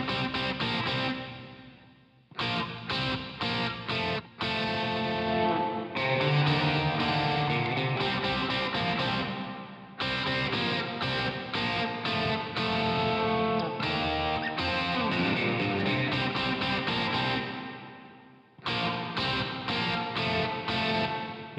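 Distorted electric guitar, the right-hand part of a mix, played through a UAD EMT 140 plate reverb, with chopped phrases separated by brief gaps of silence and a thick, saturated tone throughout, without any voices.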